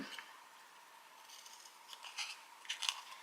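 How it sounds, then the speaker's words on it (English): Scissors snip through cardboard packaging to cut out a vessel shape, a few faint, close crisp cuts and rustles clustering toward the end. "So I'm going to cut my vessel shape out."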